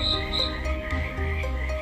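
Frogs croaking at night on a dark, overgrown village path, a dense chorus of loud, overlapping, repetitive croaks that fills the whole short stretch.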